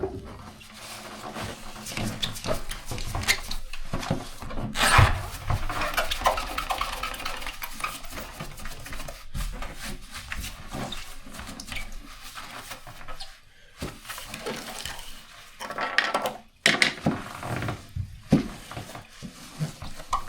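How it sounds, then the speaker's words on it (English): Rust being scraped off the metal floor of a camper van during a DIY conversion: a continuous, close, rough rasping and grinding with uneven bursts and short pauses, and no talking. "So I'm going to start at the back, work my way around and try and get off every bit of rust I can."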